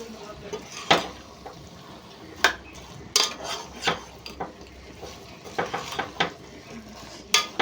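Soya chunks (meal maker) are tossed and fried in spiced masala in a pan, with irregular clanks and scrapes of a ladle against the metal over a faint sizzle, close by and without speech.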